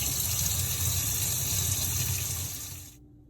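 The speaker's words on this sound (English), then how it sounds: "I'm gonna put some water into it for it to soak" Tap water gushing steadily into a container for soaking curry veggie chunks, a close hissing flow that stops abruptly near the end; no talking.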